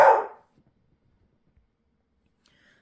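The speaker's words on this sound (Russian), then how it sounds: "Там собаки ходят возле калитки, и вот Зена их чувствует, разбушевалась." A dog barking at other dogs passing by a garden gate, a single loud bark right at the start followed by near silence.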